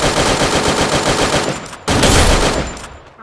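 Rapid automatic gunfire from a shooting video game rattles out in loud, dense bursts, with a brief break before another sustained volley. No one speaks.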